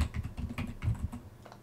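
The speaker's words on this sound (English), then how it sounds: "Can you hear my keyboard?" A computer keyboard clatters under fast typing, a dense run of quick close clicks and thumps of varying loudness with no talk.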